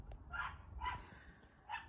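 Golden colored miniature Schnauzer puppies yap in three short, high barks spaced about half a second apart, close by and fairly quiet over a low background rumble, with no talking.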